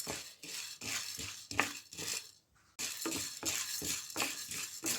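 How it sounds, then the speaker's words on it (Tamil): Toor dal dry roasting in a pan without oil over low heat, stirred with a spatula in steady scraping, rattling strokes that run continuously, close by and fairly loud, with one brief pause near the middle. "துவரம்பருப்பு இப்போ நான் வறுத்து கொண்டிருக்கிறேன்"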